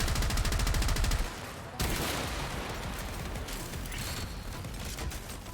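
Astilla shotgun firing in the game Warframe, a dense burst of rapid, loud mechanical shots for about a second, then a brief gap and a sustained roaring clatter of continued fire at steady level, with no voices.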